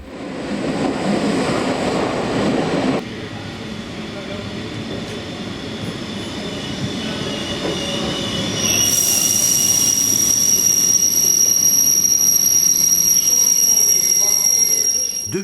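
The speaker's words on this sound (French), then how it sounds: "nous allons prendre le train de 12h42 pour Berne" A Swiss passenger train rumbles past steadily, and partway through a high, piercing squeal from the wheels rises and holds over the continuous rolling noise.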